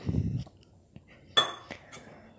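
Metal spoon clinking against a bowl while mixing eggless chocolate cake batter, a few sharp scattered taps and scrapes after a low rumble, fairly quiet and close.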